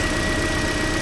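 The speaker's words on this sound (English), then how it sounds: "the engine sounds quiet from inside here, and even under the hood it's very quiet" A replacement engine in a 2008-2014 Toyota Corolla idles with a steady, even hum and a faint high whine, close and continuous with no talk.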